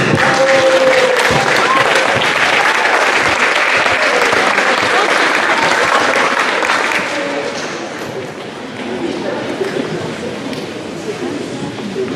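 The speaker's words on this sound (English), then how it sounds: "another round of applause for another round." A middle school awards ceremony audience gives loud sustained applause, dense clapping filling the hall, then easing slightly to a softer patter near the end.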